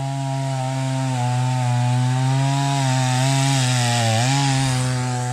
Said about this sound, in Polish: Piła w ruchu.